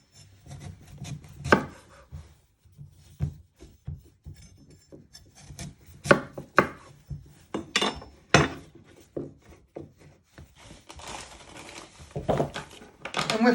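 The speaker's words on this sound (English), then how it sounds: "You first want to chop the ends off." A knife chops the ends off a sweet potato on a cutting board, giving scattered sharp chops and knocks with short pauses between and some scraping, close up and without talk.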